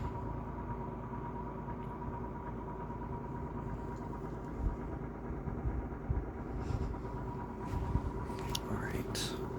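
A W. W. Welch Air-Flight 20-inch box fan runs on its low setting with a steady, soft whirring drone, and a few faint knocks and rustles come near the end.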